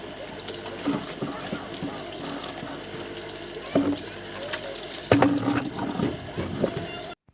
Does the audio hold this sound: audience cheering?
no